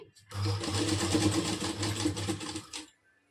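A sewing machine runs a rough stitch on a kurti, a steady close whirring motor hum lasting a few seconds before stopping, with a voice in the background.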